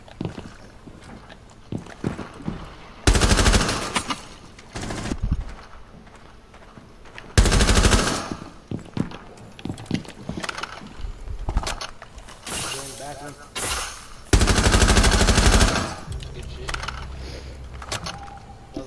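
Bursts of automatic gunfire in the video game Rainbow Six Siege come in loud, dense volleys at intervals. Players talk over and between the shots.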